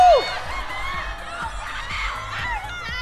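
A concert audience applauding and screaming for the boy band at a Chuang 2020 graduation show, a steady roar of clapping and high shrill cheers from a large crowd filling the space throughout.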